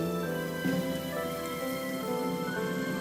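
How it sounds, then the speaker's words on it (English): Thickly sliced shallots and curry leaves sizzle steadily in hot oil in a pan for a Kerala bitter gourd dish, a continuous, fairly loud crackling fry with no pauses and no talking. "Shallots 7 pieces thickly sliced. Saute for a minute."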